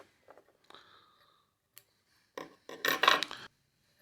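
Small scissors snip and rasp at excess material on a salmon fly being tied, a few quiet clicks and scrapes followed by a louder cluster of cuts near the end, close and otherwise silent.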